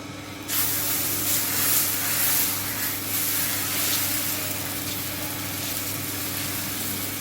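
Dosa batter made with mudakathan leaves hisses steadily on a hot pan, a continuous broad sizzle starting abruptly and holding over a low background hum.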